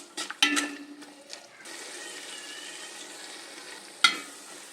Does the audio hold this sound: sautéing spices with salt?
yes